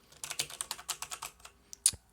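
Someone types on a Logitech K840 mechanical keyboard in a quick run of about a dozen crisp, close key clicks, then pauses and strikes one last louder key.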